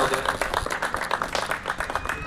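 Lively applause at a birthday celebration, with many hands clapping in a dense, continuous patter close by while voices talk over it.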